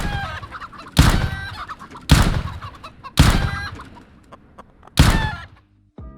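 Chickens clucking in a video game, four loud sharp bursts of clucking roughly a second apart, each fading into softer clucks, with no talk.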